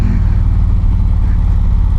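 Indian Challenger motorcycle engine revving hard under acceleration as the front wheel lifts, a loud, steady low-pitched drone with rapid firing pulses, close and continuous with no voices.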